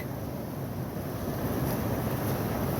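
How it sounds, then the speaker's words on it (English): Deer Creek, a mountain stream near Silver Pass on the Pacific Crest Trail, rushes in a steady, loud, unbroken wash of flowing water close by, with no talking. "This is Deer Creek."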